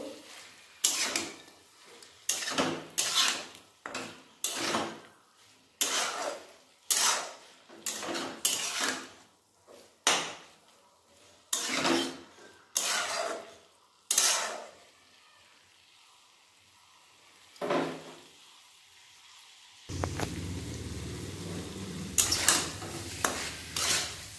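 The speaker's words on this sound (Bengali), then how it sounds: "এরপর এর মধ্যে দিয়ে দেবো ভেজে রাখা আলুগুলো। আলুগুলো দিয়ে আরেকবার ভালোভাবে কষিয়ে নেব।" Fried potatoes being stirred into a spiced mixture in a pan for a drumstick and potato curry, with a series of distinct scraping and knocking strokes of a spatula against the pan, close and rhythmic, fading to quiet before a louder sizzle near the end.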